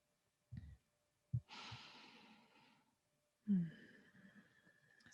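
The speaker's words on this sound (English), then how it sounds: "Breathing into your lower belly." Slow, relaxed breaths drawn down into the lower belly during a guided movement and voice session, with soft, airy inhales and sighing exhales heard close and alone, separated by short pauses.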